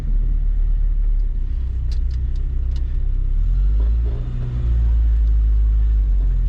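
A 1979 Chevy LUV pickup truck's engine rumbling low and steady while driving in first gear, heard close, with a few faint clicks and a brief dip before the drone swells again.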